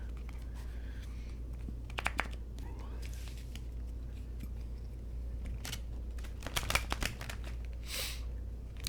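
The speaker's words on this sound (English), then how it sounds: "As I try to shuffle." Tarot cards being shuffled by hand, faint crisp clicks and riffles that come in short bursts, heard quietly against a low steady hum.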